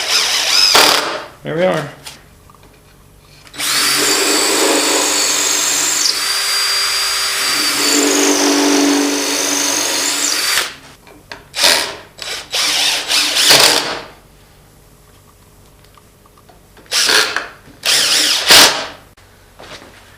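A power drill drives 2-inch deck screws into wood outdoors for a simple step, in one long whirring run followed by several short bursts, close and loud, with someone speaking briefly between them.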